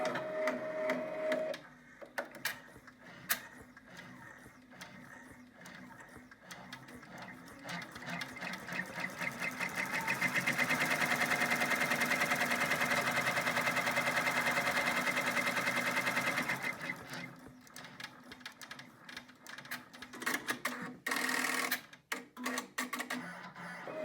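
An embroidery machine stitches a key fob design with a rapid, steady mechanical chatter that starts and stops in bursts, swells into a continuous whirring run in the middle, then breaks into intermittent clicks again.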